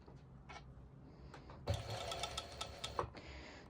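A sewing machine stitches bikini fabric and its lining in short bursts, first faint and intermittent, then a louder steady run of rapid mechanical clatter for about two seconds before stopping.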